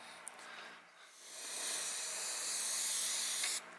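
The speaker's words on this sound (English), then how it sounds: "it's actually really difficult to see where you've sprayed the varnish" Aerosol varnish sprayed over a painted model: a steady, close hiss that builds after a short pause and holds for about two seconds before cutting off abruptly.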